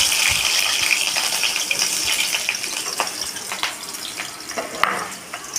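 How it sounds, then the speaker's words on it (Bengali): Potato pieces fry in hot oil in a wok with a steady, bright sizzle and a soft bubbling hiss, broken by a few faint clinks and stirs. "টুকরো টুকরো করে কেটে রাখা আলুটা আমি গরম তেলের মধ্যে আস্তে আস্তে ছেড়ে দিচ্ছি"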